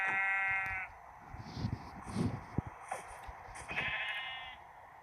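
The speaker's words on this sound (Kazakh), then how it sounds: "Ана жақта қойлардың дауысы шығып жатыр ғой" Sheep bleating outdoors on an island, two drawn-out wavering calls at the start and end with quieter rustling and thumps between them, no voices.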